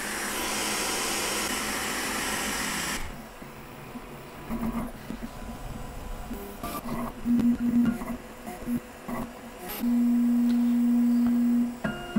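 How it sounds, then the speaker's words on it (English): A Creality K1 3D printer runs with all its fans on, giving a loud steady whir for the first three seconds, then quieter mechanical motion with intermittent motor whines and short humming tones. "It's turned on all its fans now and got quite loud, including this one here on the side."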